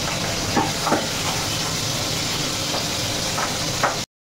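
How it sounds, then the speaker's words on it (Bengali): Pabda fish frying in hot oil in a pan, a constant dense sizzle with scattered sharp pops and crackles, close and fairly loud, cutting off abruptly at the end. "পটাশ পটাশ করে ফুটে যাচ্ছে।"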